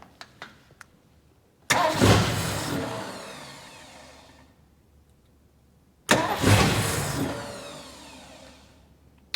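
A car engine, its base timing just reset, cranks with a few ticks, then fires twice in loud, close bursts that roar and fade gradually.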